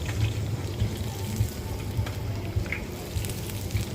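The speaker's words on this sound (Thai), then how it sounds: "ทอดไปเรื่อยๆครับ" Pieces of pork skin frying in a pan to make crispy pork, a steady close sizzle and bubbling crackle with faint low thumps recurring about every half second.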